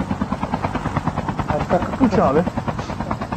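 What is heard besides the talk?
helicopter in Call of Duty Mobile video game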